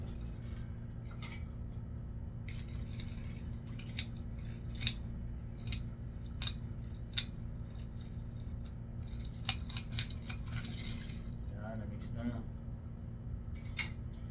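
Ice clinks against glass as an iced Spanish latte is stirred, a series of sharp little taps and rattles close by over a steady background hum.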